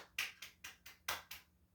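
About six sharp, evenly spaced claps ring out quietly in a near-silent room, each a crisp isolated smack with a short decay.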